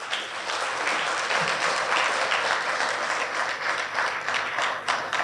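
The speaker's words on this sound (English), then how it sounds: "can you join me in clapping for my colleagues" An audience at a high-level policy forum applauds colleagues, with steady sustained clapping filling the room at a moderate level throughout.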